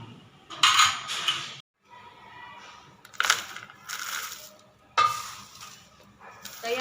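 Poha chevdo is tossed with a dry fruit spice mix in a pan, giving three separate bursts of dry crunchy rustling and scraping, each about a second long, with quieter gaps between them and no talk.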